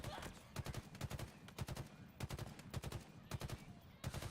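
Enemy gunfire in the Halo Infinite campaign comes in rapid automatic bursts, several clusters of sharp repeated shots with short gaps between them. It sounds loud and dense against a low rumbling game background.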